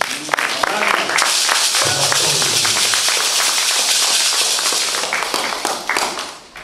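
A church congregation breaks into loud, dense applause and scattered clapping, sustained for several seconds before tapering off.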